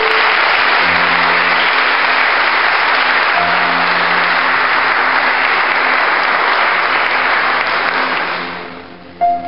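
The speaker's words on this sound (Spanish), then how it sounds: "¿Cuánto le pueden dar un aplauso al Señor?" Church congregation applauding during a Spanish-language service, sustained loud dense clapping for nearly nine seconds, with faint tones underneath, fading out at the end.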